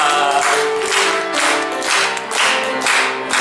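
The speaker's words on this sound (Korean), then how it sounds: "할렐루야. 박수합니다." Church congregation clapping together during a worship service, dense continuous applause rising and falling in waves, loud and close without voices over it.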